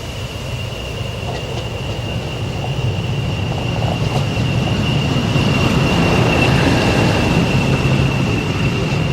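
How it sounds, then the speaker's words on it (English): A Class 40 diesel locomotive hauls a train across the Forth Bridge toward Dalmeny Station, its steady rumble of wheels and rails rolling on continuously with a faint high whine, no voices present. "this stonking shot of the 40 crossing the Forth Bridge and running through Dalmeny Station"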